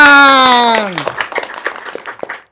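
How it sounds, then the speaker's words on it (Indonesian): Audience applause at a public meeting, a burst of hand claps starting as a sustained tone fades and continuing in an uneven, moderately loud patter. "Tepuk tangan."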